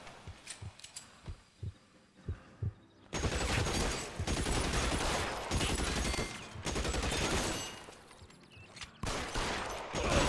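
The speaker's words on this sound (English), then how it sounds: "Guns." Gunfire from several guns: a few separate loud shots at first, then a dense, sustained barrage of rapid shooting that stays loud and continuous to the end.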